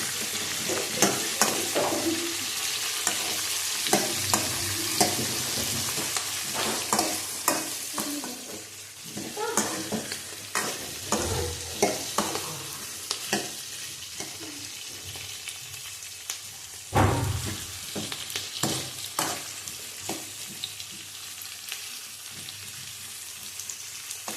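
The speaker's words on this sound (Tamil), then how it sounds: "வெங்காயம் தக்காளி ஓரளவுக்கு நல்லா வதங்கிடுச்சு" Onions and tomatoes sauté in a pan for a sardine curry, a continuous close sizzle with frequent scraping stirs and spatula clicks that thicken into bursts of tossing.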